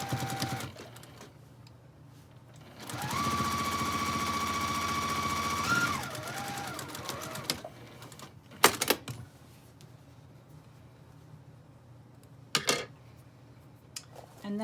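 A sewing machine top stitches a patchwork zipper pouch in one sustained whirring run of about three seconds, close and fairly loud, followed by quieter handling clicks and fabric rustles.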